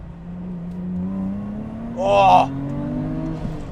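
Supercharged EZ30 flat-six in a Subaru Liberty with a full 2.5-inch exhaust and headers, heard from inside the car as a steady rising drone that swells into a brief louder rev, with a voice exclaiming over it.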